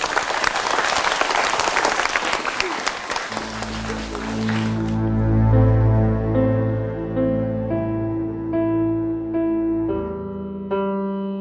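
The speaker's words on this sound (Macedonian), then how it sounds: "ние другари да ја дадеме силен аплауз" A school audience at a student performance event applauds loudly with dense clapping for about three seconds before the clapping fades out under sustained music.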